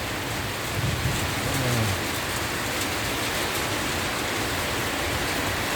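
Heavy rain pours steadily on a farm homestead, a dense, loud, unbroken hiss with no pauses and a faint low rumble under it, and nobody speaking.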